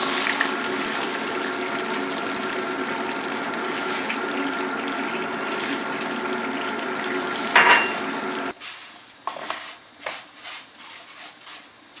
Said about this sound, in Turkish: bulmuş olduğum şehriyelerin üzerine kaynatmış olduğum suyu ilave ettim